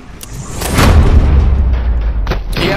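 Gunfire at a turret in the video game Robocop Rogue City: heavy, booming shots with a deep rumbling body, loud and close, a sustained roar in the middle and a couple of sharp cracks at the start and near the end.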